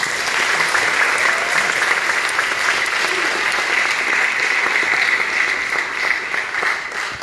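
Sustained audience applause fills the room steadily from start to finish, a dense wash of clapping at even loudness with no speech over it.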